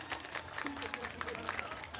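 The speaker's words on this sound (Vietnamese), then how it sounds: "một tràng pháo tay nữa thật lớn đúng không ạ?" Crowd applause at a Japan–Vietnam festival, a loose spread of clapping hands heard from a distance, with a voice speaking over it.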